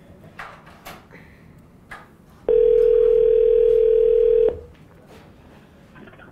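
A loud, steady telephone dial tone holds for about two seconds while someone dials, with faint voices and rustling before and after it.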